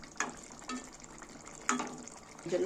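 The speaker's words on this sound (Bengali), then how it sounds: "দেখো সামান্য একটু জল দিয়ে দিচ্ছি।" A small splash of water poured into a pan of spiced egg curry masala, with brief pours and a soft sizzle, quiet and close, for making dim bhapa.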